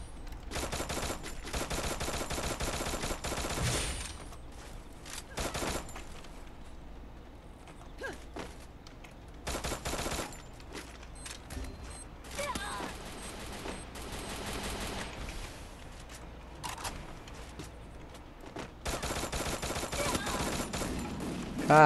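Bursts of rapid gunfire in the video game Free Fire, fast rattling volleys with pauses between them, fairly quiet and mixed with mechanical clatter.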